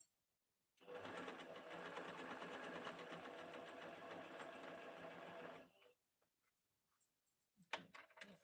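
A sewing machine set to a zigzag stitch runs steadily for about five seconds, a close, continuous whirring drone, then stops, followed by faint handling noises and a brief louder clatter near the end.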